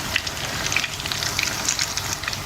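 Aloo keema tikki sizzle steadily in a pan as they cook on their second side, a dense, continuous crackle of hot oil with small popping spatters throughout, close and alone without any talk.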